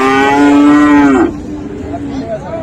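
A young Friesian-cross bull calf at a cattle market mooing once, a loud close drawn-out call that fades into the murmur of the market.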